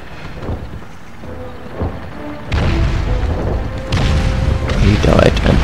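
A grenade goes off in Call of Duty 2: Big Red One, with heavy booms and crashing impacts amid battlefield noise, loud and close, and a few earlier thuds before the bigger blasts.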